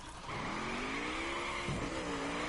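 A car engine runs and revs in the garage of The Crew racing game on PS4, a close, steady motor tone that rises in pitch, with a brief tire-like squeal near the end.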